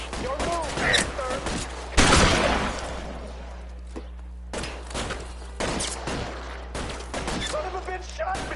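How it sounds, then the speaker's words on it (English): Gunfire crackles in the crime video game L.A. Noire, with sharp shots and rapid bursts scattered through a tense scene as voices talk and shout over them. "Son of a bitch shot me!"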